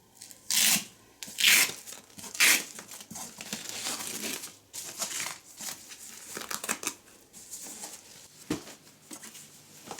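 A Hauck Dream N Play travel cot is folded up, with bursts of crinkling fabric and plastic rustles, clicks and thumps, close and uneven, loudest early on, with no talking.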